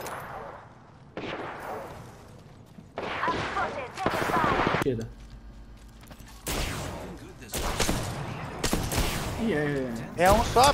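Bursts of rapid automatic gunfire from the Apex Legends video game ring out loud and close, separated by short pauses, with a player's voice talking over some of the shooting.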